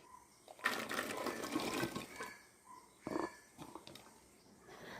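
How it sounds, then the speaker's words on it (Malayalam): Water gushes into a pressure cooker holding soaked green peas and chopped vegetables, a close splashing pour in a couple of bursts with a brief pause, fairly quiet overall and without talk. "ആവശ്യത്തിന് വെള്ളം ഒഴിച്ചു കൊടുക്കാം"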